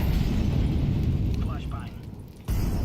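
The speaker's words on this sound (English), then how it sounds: "Incendiary." An incendiary grenade goes off in a first-person shooter, a loud sustained fiery rumble filling the clip, fading slightly before a fresh burst near the end, with a voice talking over it.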